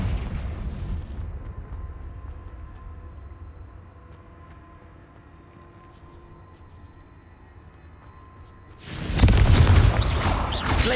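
Loud, sudden burst of a Confringo fire spell explosion in the Hogwarts Legacy video game, erupting near the end after a long stretch of low rumbling game ambience.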